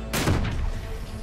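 Gunfire and explosions from an Uncharted video game: a loud booming blast followed by a rumbling, noisy burst of shots that fades slightly, with no voices.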